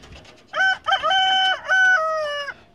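A rooster crows loudly and close by, one long harmonic call rising and holding before trailing off, with faint clucking around it.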